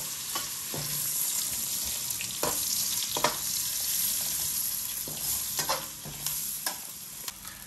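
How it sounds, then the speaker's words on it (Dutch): Steady sizzling of onions frying in butter in a pan, punctuated by scraping and clacks of a utensil stirring. "De uien zijn lekker bezig in de pan."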